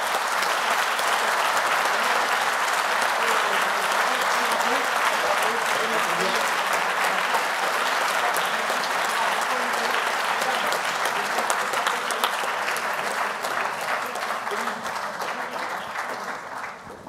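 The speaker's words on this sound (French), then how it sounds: "Je voudrais qu'on les applaudisse très très fort" An audience applauds at the naming of the flag bearer for the London 2012 Paralympic Games, a full, even roar of clapping from a large crowd that holds steady for a long stretch and fades at the close.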